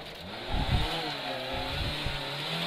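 A 1984 Lancia 037 Group B Evo 2 rally car swings through a handbrake hairpin, its engine snarling and revving in loud bursts that rise and fall over a few seconds, heard up close.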